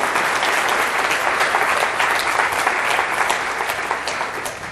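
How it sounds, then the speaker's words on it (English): Sustained applause from a crowd at a talk, bright and dense clapping from many people, steady and close before tapering slightly toward the end. "You can clap for her."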